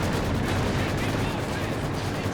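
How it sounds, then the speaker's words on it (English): Maxim machine gun firing in a Company of Heroes 2 battle, a dense continuous stream of gunfire and distant explosions with no clear break, loud and steady throughout. "Maxim here working well."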